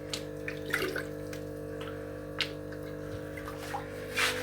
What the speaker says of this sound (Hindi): सबसे पहले तो हम इसमें भरेंगे पानी।